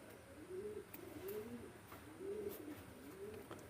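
Pakistani bloodline Teddy pigeons coo in a quiet, close series of four or five rolling, rising-and-falling coos at an even rhythm, with faint background noise and no talk.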